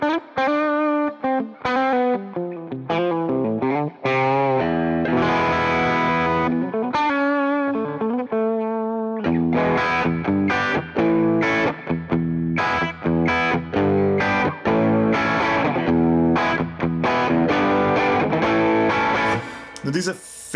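An electric guitar fitted with high-output P90 pickups plays through an AmpliTube 5 Fender Blackface amp simulation, sounding clean to lightly driven with chorus-like shimmer. Melodic lines and chords play steadily, close and full, with brief pauses and no talking.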